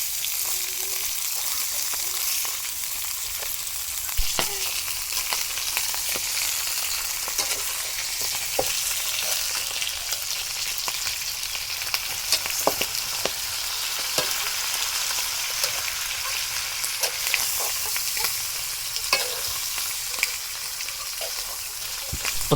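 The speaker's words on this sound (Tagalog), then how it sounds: "Igigisa na rin natin yung ating mga pata." Pork trotters sauté with garlic and onion in a hot pan, giving a steady, close sizzle and crackle with occasional sharp stirring clicks throughout, and no talking.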